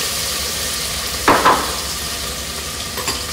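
Caramelized onions and other ingredients hissing in a hot pan for a fish and Quaker oats dish, a steady close sizzle with a couple of brief louder bursts as food is stirred.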